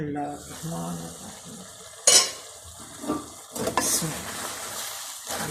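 A spoon stirs turnip greens (shaljam saag) cooked with desi ghee in a pot, giving soft scraping, clinking and sizzling sounds with a sharp clank near the middle and busier scraping toward the end.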